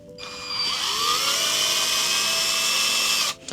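A small power tool unscrewing parts on a Nosfet Apex whirs up to a steady high whine for a few seconds, then stops abruptly, close and loud.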